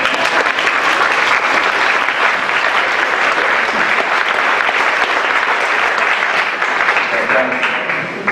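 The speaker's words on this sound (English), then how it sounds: "Can we clap now? Yeah, you can clap now." Sustained applause from an audience at a town meeting, steady and dense clapping throughout, fairly loud with no pauses.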